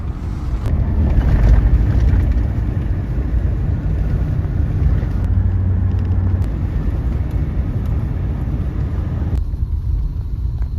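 A car cruising along Highway 26 north of St. Eustace, with steady loud road and wind rumble holding throughout, heavy low-end drone and no voices.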